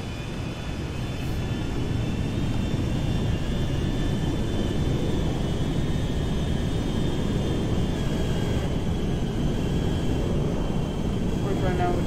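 An airliner's engines in a flight simulator game, a steady, loud low roar that holds evenly throughout, with a faint high whine running above it.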